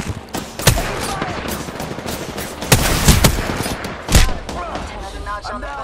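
Game gunfire from Apex Legends: bursts of rapid shots with several louder cracks standing out, close and busy, with faint game voice callouts underneath.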